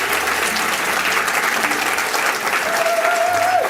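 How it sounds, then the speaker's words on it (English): A live public radio show crowd claps continuously and loudly, dense applause filling the room for several seconds, with a faint tone sounding near the end. "Give them a big round of applause again."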